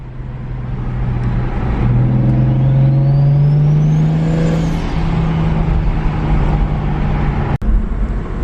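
A car engine fitted with a DOC race intake manifold revs up and holds high, a loud sustained drone with rising pitch, then dips sharply near the end before a brief return.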